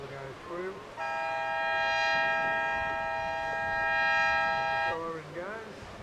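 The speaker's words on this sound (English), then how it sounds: "Siren goes, these crews get off the beach." A steady siren blares for about four seconds to start a surf boat race on an open beach, loud and sustained over surf and crowd noise.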